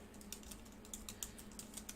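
Rapid, steady tapping on a computer keyboard, light clicks coming in quick succession for a couple of seconds, faint and close with no voices.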